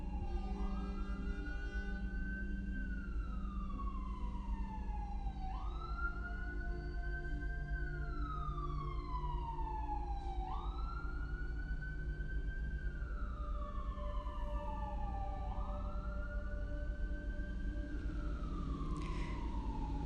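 A wailing emergency siren rises and falls in long, steady sweeps, loud and continuous over a constant low rumble of traffic.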